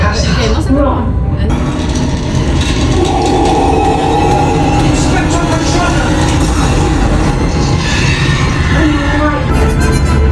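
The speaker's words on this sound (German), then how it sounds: "wir fahren wirklich Hogwarts Express" A Hogwarts Express theme park train ride carriage rumbles and rattles loudly and continuously up close, with clattering mechanisms and people talking over the din.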